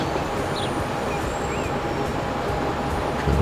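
A Stadler train runs along the track in Transport Fever 2, a steady broad rumble of wheels and motor rolling on without a break and swelling slightly at the end.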